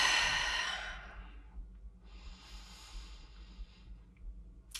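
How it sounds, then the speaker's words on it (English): A long, deep exhale during a guided stretching and self-massage routine for runners, loud at the start and fading out, followed by quieter breathing with soft hiss and no talk. "Take a nice deep breath."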